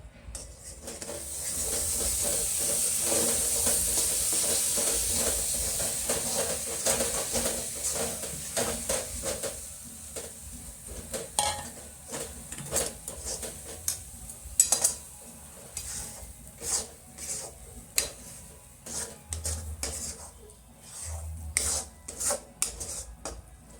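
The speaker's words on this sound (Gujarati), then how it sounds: "પેંડા વાળી શકાય તેવું બને ત્યાં સુધી હલાવવાનું" Mava milk solids stirred in a pan for pendas, a hissing sizzle early on giving way to irregular scraping and rubbing strokes of the spoon, close and without talk.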